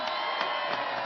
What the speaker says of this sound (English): The biggest cheer